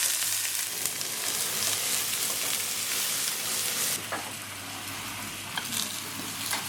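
Steady crackling sizzle of Vietnamese bánh xèo pancake batter frying in a hot pan, continuous and close, with a brief scrape partway through.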